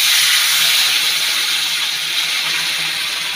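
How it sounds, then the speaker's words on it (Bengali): Hot water pours into a pan of cooked spice mixture as a loud, continuous, close rushing hiss that fades slightly toward the end. Nothing else is heard. "এখন দিয়ে দেবো গরম জল"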